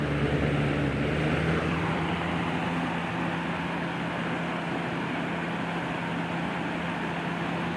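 A vintage electric fan with a large full-size Macmillan motor runs on its high setting, giving a steady, even whoosh of moving air with a low motor hum beneath, continuous throughout.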